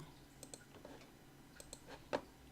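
Computer mouse clicks while selecting items with Ctrl held in SolidWorks drawing software, a handful of light, sharp, separate clicks at an uneven pace in a quiet room.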